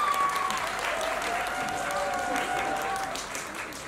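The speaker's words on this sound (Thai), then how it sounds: "ขอเสียงปรบมือให้กับหมายเลข12ครับ" Audience applause for contestant number 12 at a male pageant event, sustained clapping filling the hall, with a host's voice and tonal background music running underneath.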